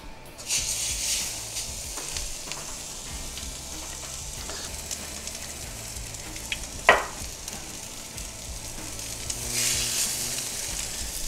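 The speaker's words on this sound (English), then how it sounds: "put just a little bit of olive oil on the griddle just to help it brown up, and it should smoke" Meat sears in a little olive oil on a smoking-hot griddle, a steady close sizzle and hiss that swells in places, with one brief scrape or clack partway through.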